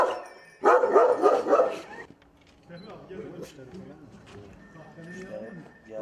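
Kangal dogs snarl at each other in a burst of loud, close barking and growling, which then drops into lower growls, whines and yips, continuing more quietly to the end.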